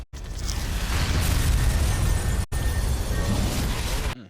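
A hive being destroyed in the video game Prototype erupts in a loud, sustained explosive roar. It rumbles for about four seconds with a brief cut midway, then dies off abruptly.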